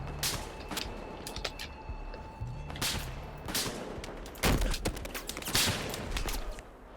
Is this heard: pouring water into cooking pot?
no